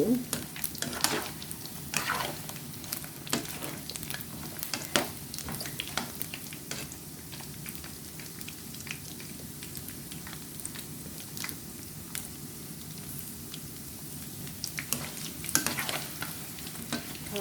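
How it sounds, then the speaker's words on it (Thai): Pork meatballs deep frying in oil, a steady bubbling sizzle with scattered pops and occasional stirring clicks, fairly quiet and continuous throughout. "ลูกชิ้นใครก็ทอดได้เนาะเดี๋ยวให้สุกเหลืองก่อนนะ"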